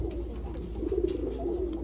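A pigeon coos steadily in a low, throaty, continuous murmur. The bird is one of a milk-white fancy pigeon pair, with a small head and telescope-like eyes, and the cooing sits over soft background rumble without talking.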